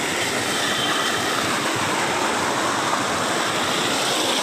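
River water rushes over a stone bund built to hold back the flow, on a riverbed of river stones near Kottiyoor; a loud, steady, close roar of churning water with no talk.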